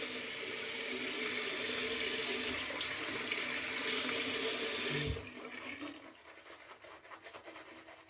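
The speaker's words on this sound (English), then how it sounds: "So a little bit of water onto my face." Tap water runs steadily into a sink while a man splashes it onto his face before shaving with a Merkur 34G safety razor; the flow is close and loud, then cuts off, leaving quieter drips and handling noises.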